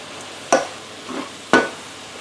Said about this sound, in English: we're going to turn the spinach